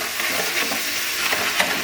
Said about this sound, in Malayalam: കളർ കിട്ടാൻ പഞ്ചസാര ഇപ്പോ പാനിലിട്ട് വറുത്തോണ്ടിരിക്കുകയാണ്